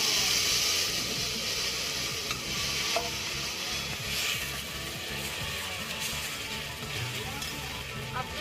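Tomato, green chili and ginger paste sizzling in hot mustard oil, a continuous close frying hiss with light stirring scrapes and a couple of small clinks.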